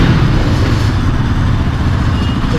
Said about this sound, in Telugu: చూడొచ్చు ఒకసారి బైక్ సౌండ్ చూడండి ఒకసారి